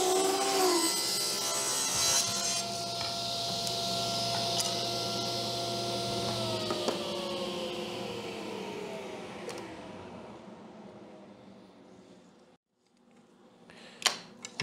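A table saw rips a thin wood strip against the fence in a woodworking shop, whining loudly and steadily for about ten seconds before the blade spins down and goes quiet, followed by a faint knock near the end.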